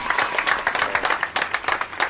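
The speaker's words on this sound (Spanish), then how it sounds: "Un aplauso para el corte." A small group applauds a finished haircut in a barbershop, with steady close clapping and a brief pause partway through.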